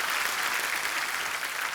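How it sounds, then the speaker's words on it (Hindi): A studio audience at a Kapil Sharma comedy talk show claps in dense, even applause that fills the whole short stretch at a constant level, with no voices over it. "ठोको ताली, ठोको ठोको जोर से।"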